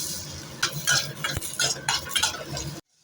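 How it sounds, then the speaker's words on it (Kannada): Four large-cut green tomatoes roasting in a kadai and being stirred, with a steady run of scraping and clinking utensil strokes over a soft fry, close up and ending abruptly in silence. "ಈಗ ಅದೇ ಕಡಾಯಿಗೆ ದೊಡ್ಡದಾಗಿ ಕಟ್ ಮಾಡಿರೋ 4 ಟೊಮೆಟೊಕಾಯಿನ ಹಾಕಿ ಹುರ್ಕೊಳ್ತಿದ್ದೀನಿ"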